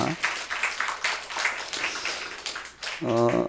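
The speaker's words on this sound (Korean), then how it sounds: "먼저 이분들을 박수로 한번 축복하겠습니다" A church congregation applauds during a Sunday morning service, steady clapping spread across the room, with a voice breaking in near the end.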